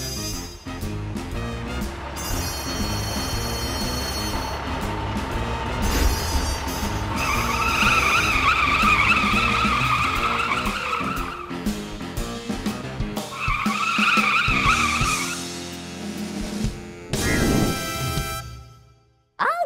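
An animated car races closer with a rising engine and long squealing tire skids in two stretches, loud and near, before the noise cuts off abruptly at the end.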